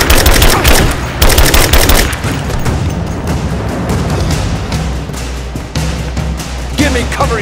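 Loud, dense gunfire in Rise of the Tomb Raider: sustained machine-gun bursts and booming shots fill the whole stretch, with voices shouting beneath the firefight.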